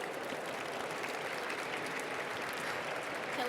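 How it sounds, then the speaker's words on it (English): A conference audience on climate action applauds warmly, a continuous, even wash of clapping from many hands that holds steady from start to finish. "Please give them both a warm round of applause."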